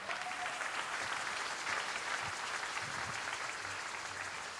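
A church congregation at a sermon applauding in memory of deceased parents: steady, dense clapping from a large crowd, sustained evenly with no voices standing out.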